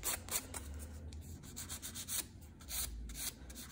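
Hand file rubbing across an acrylic gel nail: soft, quiet rasping strokes in a quick uneven rhythm, close up with no talking.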